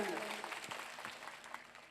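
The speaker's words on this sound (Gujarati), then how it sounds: "એકવાર જોરદાર તાળીઓના ગણગડાટ સાથે વધાવી લ્યો" Faint audience applause at a Koli community gathering, a soft steady patter heard briefly under a voice.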